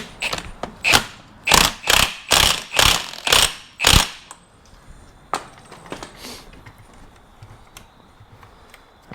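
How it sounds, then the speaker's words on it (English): Ratchet wrench tightening a nut on the rear differential of a Honda CR-V/Element, heard as a series of about seven loud, evenly spaced clicking bursts, then scattered softer clicks and handling noise. "I'm tightening down the nut here"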